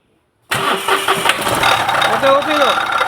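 A Mahindra Quanto engine with a faulty noise and a wobbling water pump catches after a half-second of silence and settles into a loud, close, rough idle, with a voice talking briefly over it.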